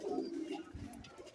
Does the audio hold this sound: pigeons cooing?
yes